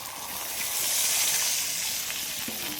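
Water poured into a pan of goat meat and potatoes already frying in spices, giving a steady close hiss and sizzle with bubbling that swells and then settles, with no talking.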